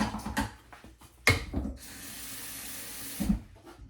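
Tap water runs steadily into a cup for a couple of seconds, bracketed by a few clinks and knocks of handling.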